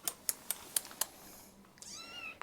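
Gracie the cat, near her three newborn black kittens, meows once with a rising, drawn-out call after a few sharp ticking taps, fairly close and quiet, without speech.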